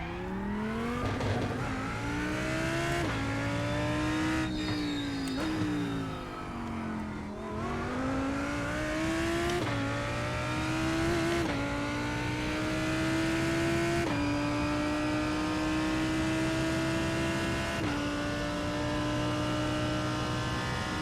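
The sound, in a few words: Lamborghini GT3 race car lapping Red Bull Ring, racing video game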